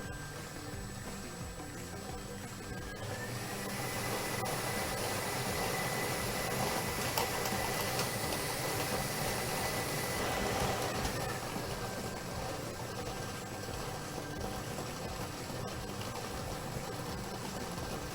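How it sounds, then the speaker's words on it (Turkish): A Şans Topu lottery draw machine churns its numbered balls during a live televised draw, giving a steady, fairly loud whooshing roar that holds evenly for the whole stretch with no voices over it. "Canlı yayında şans merkezimizde ilk şanslı numara içinde toplarını karıştırmaya başladı."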